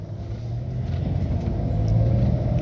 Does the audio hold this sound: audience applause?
no